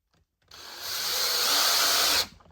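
A power screwdriver drives a screw into a wooden charcuterie board, a single close whirring burst that ramps up in pitch and loudness, holds for about two seconds, then cuts off.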